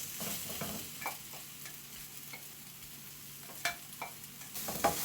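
Mashed potato with fresh coriander and salt is stirred in a pan for a pastry filling, a faint sizzle running underneath while the spoon scrapes and taps against the pan in scattered soft knocks.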